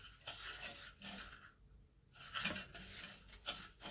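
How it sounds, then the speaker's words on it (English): A spoon scrapes and rubs around a bowl, mixing buttery biscuit crumbs with rosemary for a no-bake strawberry cheesecake base, giving close, soft gritty scraping strokes with brief pauses and no talk. "we want to mix this in so that these biscuit crumbs get all nice and buttery"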